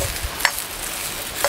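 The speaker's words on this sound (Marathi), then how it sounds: "असं परतून घेतलं ना भाजी खूप छान होतो" Cluster beans (guar) being stir-fried in a pan over a stove, making a steady close sizzle with a couple of brief spatula scrapes and no talking.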